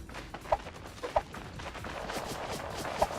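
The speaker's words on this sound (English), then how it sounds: "One of them taking shots out the window, not landing anything" Gunfire from the shooter video game Creative Destruction, with a few sharp, isolated shots spaced irregularly over a faint, busy background, fairly quiet and distant, with no voices.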